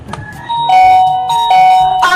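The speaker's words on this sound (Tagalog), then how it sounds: "May nag-doorbell sa gate!" A doorbell at a gate chimes loudly and close, giving a two-tone ding-dong rung twice in quick succession, with a brief knock or shuffle just before.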